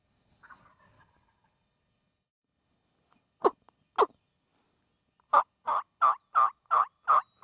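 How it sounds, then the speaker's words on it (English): A wild turkey gobbler in Mississippi woods gobbles in a rapid string of loud, rattling pulses, with a couple of sharper notes before it and quiet stillness between. "He's still gobbling."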